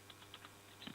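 A few soft keystrokes on a computer keyboard, faint close clicks spaced irregularly over a quiet background.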